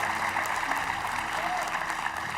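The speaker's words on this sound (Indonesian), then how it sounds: "Kalau kita tepuk tangan dulu untuk Mbak Lisa dan juga Mas Haryo" Studio audience applause on an Indonesian paranormal talk show, a steady dense wash of clapping that holds evenly for the whole stretch, with speech faintly mixed in underneath.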